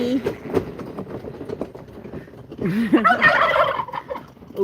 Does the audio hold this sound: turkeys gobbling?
yes